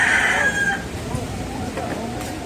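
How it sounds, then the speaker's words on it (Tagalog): A native rooster crows loudly at the start, then the crow fades into the noisy background of a live poultry market in Jeddah, with murmuring and shuffling. "Native chicken."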